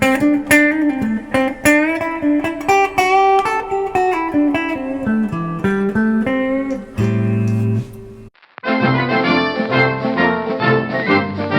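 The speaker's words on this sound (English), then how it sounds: "This is the Fender Princeton Reverb." Electric guitar through a Fender 68 Custom Princeton Reverb amp playing a busy picked phrase, a brief sustained chord, a short gap, then a brighter strummed passage.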